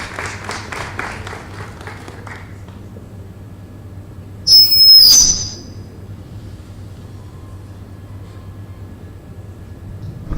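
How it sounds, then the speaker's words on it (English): Audience applause for a speaker at an evening event, steady clapping that fades over the first few seconds, followed by a brief, loud, high squeal and then quiet room tone. "Clap for him."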